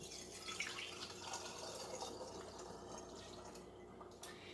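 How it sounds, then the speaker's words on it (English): Two cups of water pour into a quart jar, a steady trickling fill that runs quietly for several seconds without any talk. "To this jar, I'm going to go ahead and add 2 cups of water here."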